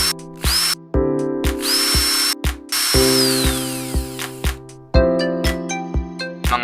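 A cordless DeWalt drill, the brand's cheapest model, drives a screw in repeated short bursts, its motor whining up and cutting off several times, loud and close with no talking.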